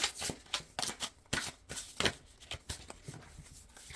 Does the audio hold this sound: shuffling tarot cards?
yes